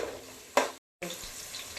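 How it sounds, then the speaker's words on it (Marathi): Marinated chicken goes into a pan of hot oil tempering with frying onions for chicken biryani, giving a sudden loud sizzle burst partway through, then a brief silence and a steady frying hiss. "हे बघा मॅग्नेट करून ठेवलेलं हे चिकन आता मी ते फोडणीला घालते"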